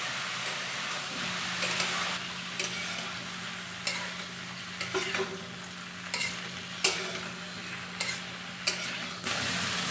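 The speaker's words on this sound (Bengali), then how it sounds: "এটা ফার্স্টে একটু ভাজতে হবে, এটা নাড়াচাড়া করি। তরকারিটা ভেজে নেবো।" Cauliflower curry fries in a pan under a constant soft sizzle, while a spatula scrapes and knocks against the pan in regular, sharp strokes every second or so.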